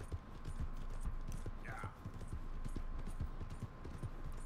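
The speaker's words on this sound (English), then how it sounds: "This horse is following me." In Red Dead Redemption 2, a horse's hooves clip-clop in a quick, steady rhythm at close range, faint and continuous, with a short whinny-like sound partway through.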